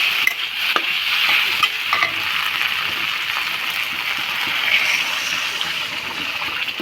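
Gravy poured into a pot of Bangladeshi-style egg and potato curry, bubbling and sizzling steadily with stirring sounds, close and moderately loud without talking.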